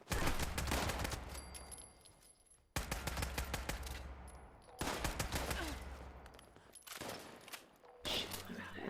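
Video-game machine gun fire in long rapid bursts, loud and close, with a few brief pauses between volleys and a final short burst.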